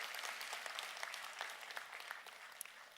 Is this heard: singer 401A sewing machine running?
no